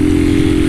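Motorcycle ridden by an app food-delivery courier, a loud steady engine drone with rough rattling texture, close and continuous, no voices.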